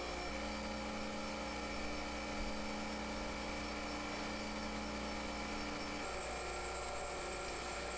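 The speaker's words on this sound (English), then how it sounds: "You'll proceed in this manner until the grinding wheel has made a clean cut all the way across your flywheel." A grinding wheel resurfaces a flywheel in a reconditioning job, producing a steady, loud machine drone with a high whine; a lower hum drops away near the end while the grinding continues, with no talking.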